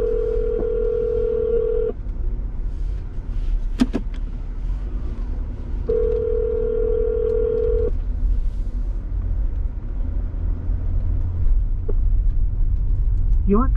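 Ringback tone of a telephone call to a transportation company being transferred, two long repeating ring bursts with pauses between them over low vehicle rumble, with brief clicks.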